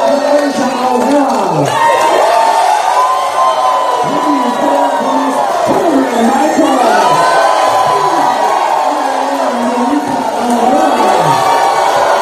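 A party crowd at a drag show finale celebration cheers, whoops and shouts continuously and loudly, a dense wall of voices with no pause.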